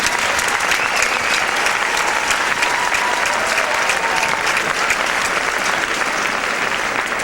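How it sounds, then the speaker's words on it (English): Sustained audience applause at the 1998 US Open Professional Latin American Championship, a steady, dense wall of clapping from a large ballroom crowd honouring the dance finalists, loud and unbroken throughout. "let's have a nice round of applause once again for our finalists"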